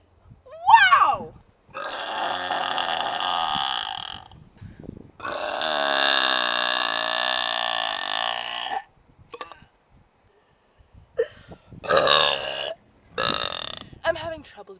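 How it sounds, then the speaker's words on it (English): A person lets out several long, loud, croaking burps close to the microphone, with pauses between them and short bits of talk in the gaps. "Let's see my friend burp some more."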